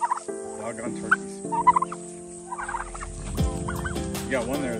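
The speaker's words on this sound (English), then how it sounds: "Doggone turkeys." Turkeys gobble repeatedly nearby on a cattle farm, several overlapping rattling calls in quick bursts over steady low hum and scattered clatter.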